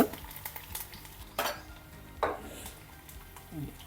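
Mustard seeds, cumin, dried chillies, garlic, curry leaves and asafoetida sizzle in hot oil in a kadai, with a soft crackle and a few sharp scraping stirs of a metal spoon.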